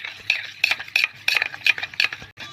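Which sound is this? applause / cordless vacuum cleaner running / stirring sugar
stirring sugar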